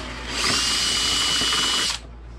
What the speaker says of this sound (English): I'm going to drill for a switch now.